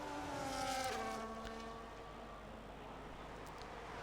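A Formula-style race car engine from a racing video game, set on the Canada circuit, drones down the start-finish straight. The tone climbs through gear changes, then fades to a fainter hum.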